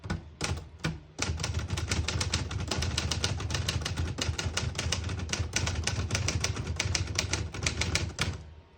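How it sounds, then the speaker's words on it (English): Rapid typing on a 1952 Olivetti Studio 44 portable typewriter, a dense run of sharp, close metallic key strikes with a couple of isolated taps at the start, heard alone. "This is a luxury typewriter"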